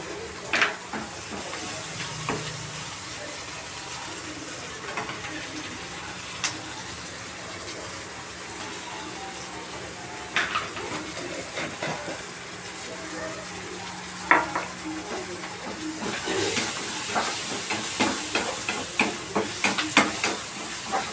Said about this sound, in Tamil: உள்ள விட்டு நல்லா கிண்டுங்க.